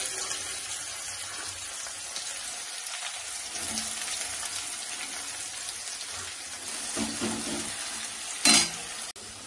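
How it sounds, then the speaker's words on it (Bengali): Spice paste sautéing in a pan at home: a steady, moderate sizzle runs throughout, with a brief louder clatter near the end. "মশলাটা কষা হচ্ছে, টাইম লাগে"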